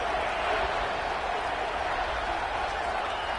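A stadium crowd in the college football video game NCAA 26 gives a steady, distant roar of cheering and applause. The noise stays fairly faint and even throughout, with no clear peaks.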